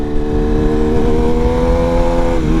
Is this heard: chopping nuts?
no